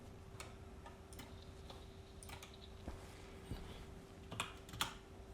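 Computer keyboard typing heard faintly over an online voice chat during a Stationeers game session, scattered soft key clicks and taps spread across the clip with a few louder strikes near the end.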